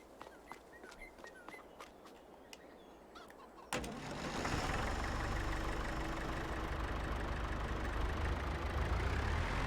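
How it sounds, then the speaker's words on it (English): A John Deere tractor engine in Farming Simulator 22 starts abruptly partway through, then holds a steady, loud idling rumble after some quiet ambient farm sounds. "Now we'll get into that John Deere and start making our way around."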